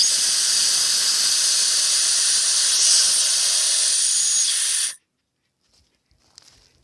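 Compressed air hisses loudly and steadily from an unhooked storage tank, a sharp high-pitched stream that cuts off abruptly, leaving near silence with faint handling noise.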